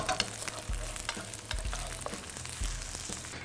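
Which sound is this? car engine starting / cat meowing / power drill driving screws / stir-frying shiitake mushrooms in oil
stir-frying shiitake mushrooms in oil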